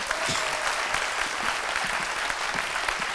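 Studio audience applauding on a French-language midday television talk show, dense sustained clapping from many people at an even, fairly loud level throughout.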